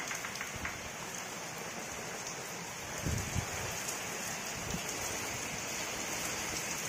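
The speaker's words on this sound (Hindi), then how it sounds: "बारिश भी हो रहा है बहुत अधिक।" Steady heavy rain pours down in a strong windstorm on a village house, a dense constant hiss with a few louder splashes and knocks partway through.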